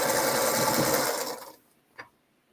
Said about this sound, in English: hearing that sewing machine is just perfect